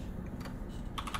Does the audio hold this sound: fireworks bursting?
no